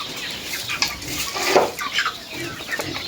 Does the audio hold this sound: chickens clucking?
yes